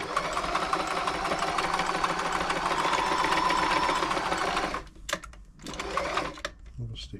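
A Frister & Rossmann 904 sewing machine sewing a stitch at steady speed, a loud continuous mechanical whirr for several seconds that stops, followed by a couple of short handling clicks and a brief restart.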